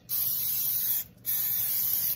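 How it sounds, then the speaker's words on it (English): Two bursts of cooking spray from an aerosol can onto eggplant, close by, each hissing steadily for about a second with a short pause between them. "Spray them with this Pam."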